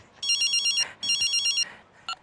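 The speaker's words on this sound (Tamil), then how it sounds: "அம்மாவுக்கு ஃபோன் பண்ண போகிறோம்" Telephone ringback tone while calling someone's mother, two loud trilling electronic rings of about half a second each followed by the start of a third, clean and close.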